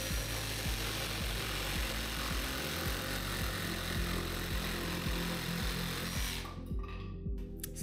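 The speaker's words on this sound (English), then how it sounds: "I'm actually cutting the 45-degree angle the other way" A DeWalt XR cordless jigsaw saws a 45-degree bevel through wood, its blade buzzing loud and steady with a fast repeating stroke rhythm before the cut ends and the motor winds down near the close.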